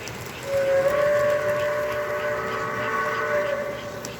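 An American Flyer toy train whistle sounds a sustained, steady reedy tone for several seconds, moderately loud over a faint background hum.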